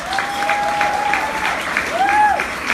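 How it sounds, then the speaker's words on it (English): Audience applause fills a hall at an evening charity gala, steady dense clapping from a crowd over a tonal background sound. "Give him a round of applause."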